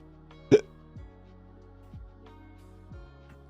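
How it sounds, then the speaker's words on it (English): A single sharp hiccup bursts out near the start, followed by several faint, softer hiccup-like catches spaced about a second apart in an otherwise quiet room with no talking. "I have the hiccups"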